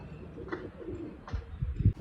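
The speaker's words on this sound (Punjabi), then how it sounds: "ਹੁਣ ਆ ਖੋਲੇ ਨੇ ਕਬੂਤਰ" Soft, low pigeon coos murmur close by at a pigeon loft over a muffled, noisy background.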